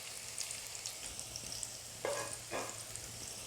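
Onions frying in oil on high flame in a village handi: a soft, steady sizzle with a couple of louder stirring scrapes partway through, close and fairly quiet.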